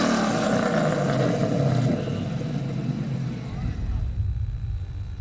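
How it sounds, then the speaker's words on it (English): A Ford Mustang engine revs hard, a loud, gnarly low rumble that holds for a couple of seconds, then drops away into a lighter idle with talk underneath. "it was pretty obvious that this is a gnarly Mustang sound"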